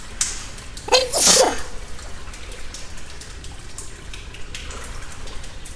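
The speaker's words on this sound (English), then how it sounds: "achoo!" A single sharp sneeze bursts out near the close, followed by a soft wet background of dripping and trickling water that continues faintly afterward.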